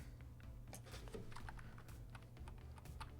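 Rapid, irregular keystrokes on a computer keyboard, including arrow-key presses, tap close and clear over a steady low hum with no voices.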